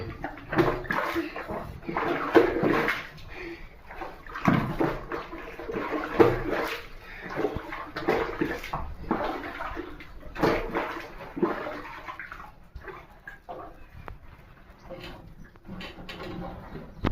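Water poured and splashed during a bath, in a string of uneven, splashy bursts with sloshing in between, close and fairly loud throughout.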